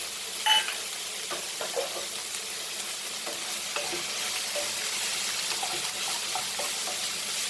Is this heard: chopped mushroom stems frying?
yes